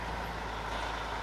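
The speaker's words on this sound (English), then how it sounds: "Finally, the complete truck is put through its paces on the test track." A heavy truck engine drones steadily and evenly on a test track, a brief low rumble heard alone.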